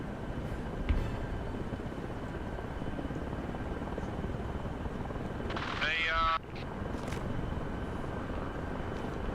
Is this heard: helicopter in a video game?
yes